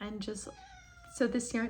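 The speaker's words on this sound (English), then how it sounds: "So that's my cat." A house cat gives a short meow close by while someone talks about hand-painted yarn.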